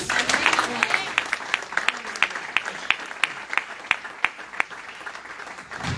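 Congregation applause during a Christian sermon: a burst of scattered clapping opens, then settles into slow, evenly spaced individual claps, fairly close, with a brief voice at the start.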